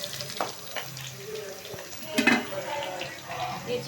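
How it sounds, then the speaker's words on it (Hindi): Onions fry in a pan for macaroni with a continuous close sizzle and stirring scrapes, and muffled voices murmur in the background. "इधर हम प्याज को भून रहे हैं मकरोनी के लिए।"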